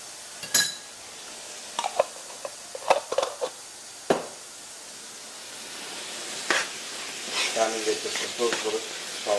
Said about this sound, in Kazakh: Жақсылап бірінші қуырамыз